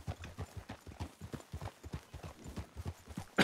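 Hooves of a Kentucky horse in Red Dead Redemption 2 clip-clop in a steady, even walking rhythm, fairly faint, ending with a sudden louder burst.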